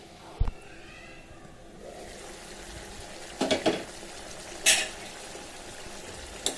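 Aloo gobi gravy is stirred in a pot and then covered: scattered metallic clinks of a spoon against the pot and a lid knock rise above a soft, steady bubbling simmer.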